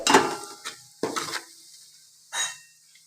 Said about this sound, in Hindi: यहाँ पे हमारा ऑयल गरम हो चुका है। अब इसमें हम मिर्ची को ऐड करेंगे, लाल मिर्ची। इसको ऑयल में मिक्स कर लेंगे।